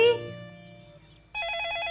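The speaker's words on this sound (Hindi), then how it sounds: "बीजी फोन है।" A household telephone rings with a warbling electronic bell, starting up sharply after a brief lull and continuing steady and fairly close in an indoor room.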